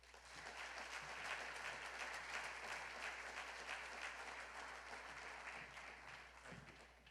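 Steady audience applause welcoming the university president at a CSU press event introducing a new men's basketball coach, a sustained even clapping from a room of people that holds for several seconds before tapering slightly.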